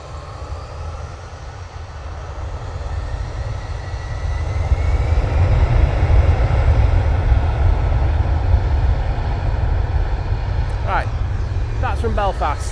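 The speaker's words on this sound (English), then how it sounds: "Easyjet from Belfast. About to touch down." An Easyjet airliner arriving from Belfast roars steadily as it touches down at Manchester Airport, a broad low rumble that builds and holds, with a voice briefly talking near the end.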